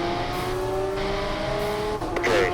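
Race cars at Mid-Ohio roar on track at a green-flag restart, a loud sustained engine drone with pitch shifts, then tires squeal and another car rises in pitch as it passes close.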